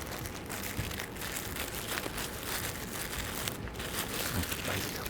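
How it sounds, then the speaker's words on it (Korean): Plastic vinyl gloves are pulled on in a clinic setting, producing continuous close crinkling and rustling throughout. "비닐 장갑을 처음에 끼고 고주파를 먼저 하게 되는데"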